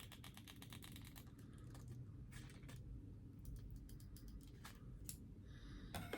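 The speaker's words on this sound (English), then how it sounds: "Let me try using my scissors to not tear up the packaging." Quiet, repeated snips of scissors cutting through packaging, irregular clusters of sharp clicks over a low background hum.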